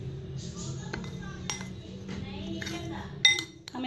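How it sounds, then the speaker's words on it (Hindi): Semolina and flour are stirred together in a bowl, with a spoon clinking lightly against the sides in scattered taps over a soft, low background. "ये दोनों चीज़ें ऐड करने के बाद हम इसे अच्छे से मिक्स कर लेंगे"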